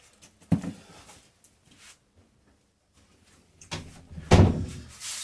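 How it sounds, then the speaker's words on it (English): A door thuds shut twice, a lighter knock early on and a heavier slam near the end, with faint rustling in between. "just going to close that door."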